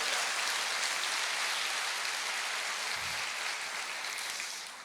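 A church congregation applauds in a dense, sustained wash of clapping that fades slightly at the end.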